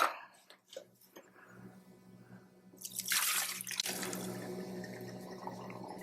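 Water trickling and dripping as gasoline drains through a Mr Funnel water-separator filter, starting with sparse drips then swelling into a steady pouring flow, close and moderately quiet.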